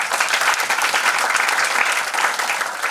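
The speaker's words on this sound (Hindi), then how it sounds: "वेरी गुड, ताली बजाओ इन लोगों के लिए।" A seminar audience, including couples seated with family, breaks into loud, dense, continuous clapping that stays strong for the whole stretch.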